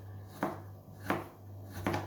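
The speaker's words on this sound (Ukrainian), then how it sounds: "Морку будемо нарізати тоненькими кружальцями." A knife slices carrots into thin rounds on a cutting board in three crisp, evenly spaced chops, close up, over a faint low background hum.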